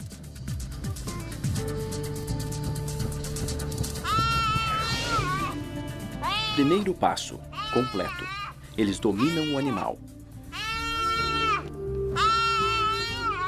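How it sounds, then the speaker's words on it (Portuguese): A prey animal bleats loudly and repeatedly as young cheetahs pin it down and try to suffocate it. The cries are strained and wavering, and a narrator speaks between and over them. "O berro ecoa por toda a terra."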